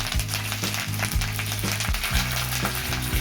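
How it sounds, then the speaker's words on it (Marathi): Crushed garlic, chopped green chili and curry leaves crackle in hot oil with mustard seeds, a dense sizzle overlaid by repeated rattling, grinding scrapes of a spatula against the pan. "आपला लसूण चांगला परतून घ्या"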